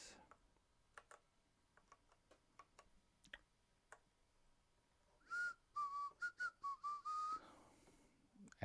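Person whistling a short, clear melodic phrase of several notes, following a run of faint ticking and tapping sounds in a quiet indoor room.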